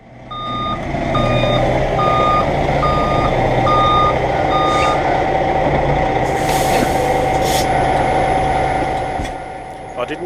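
A prime mover truck backs under a low trailer. A loud, evenly spaced reversing alarm beeps through the first half over the heavy diesel idle, followed by a short burst of air hiss.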